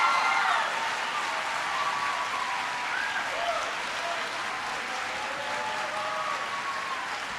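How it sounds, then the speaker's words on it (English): Sustained audience applause for a school principal, a broad steady roar of many hands clapping at a constant level for the full length, with no voices over it. "please give her a big round of applause"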